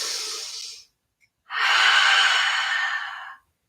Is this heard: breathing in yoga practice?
yes